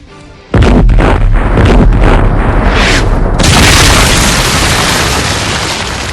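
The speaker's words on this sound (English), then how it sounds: "The Goliath's big guns just tore through the shadow of the deep." The big guns of the airship Goliath fire as a sudden massive boom, then a sustained roaring blast and rumble that stays very loud and slowly fades, with no voices.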